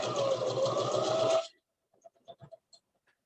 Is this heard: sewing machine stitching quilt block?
yes